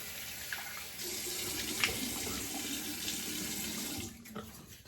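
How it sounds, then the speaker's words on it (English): Near-hot water runs from a bathroom tap into a sink as a steady close splashing stream, then tapers off near the end. "now I'm going to put a little bit more near hot water on my face"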